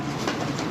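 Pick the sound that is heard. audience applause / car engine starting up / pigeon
pigeon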